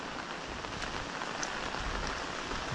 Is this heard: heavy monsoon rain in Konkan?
yes